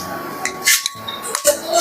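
Utensils clink and scrape against a bowl while white mami noodles are stirred, several sharp close metallic knocks in quick irregular succession.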